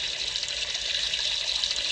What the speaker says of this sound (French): Go à la douche.